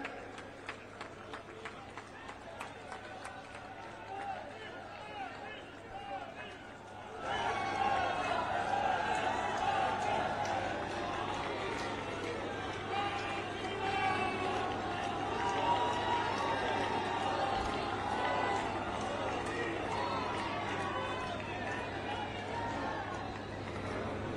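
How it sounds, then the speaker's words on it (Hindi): A large crowd at a political rally greets the Prime Minister on stage with applause that swells sharply after a quieter start and then holds as a dense, sustained roar of clapping and crowd noise. "आदरणीय प्रधानमंत्री जी और आदरणीय अध्यक्ष जी का मंच पर जोरदार तालियों से हम स्वागत कर रहे हैं"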